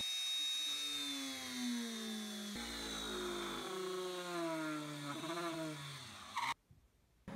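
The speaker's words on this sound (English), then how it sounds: "Using a cone bit on the Dremel, sand out the holes to countersink the number 8 screws" A Dremel fitted with a cone bit sands out screw holes in a PVC piece for countersinking number 8 screws, a close, continuous high whine that shifts in pitch as the load varies, then cuts off abruptly.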